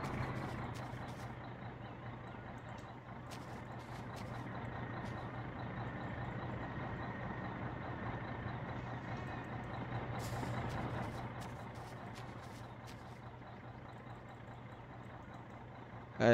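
A truck in the My Summer Car driving game drones with a steady engine note as it slows down and idles, fairly quiet and continuous, then ends in a short sharp burst.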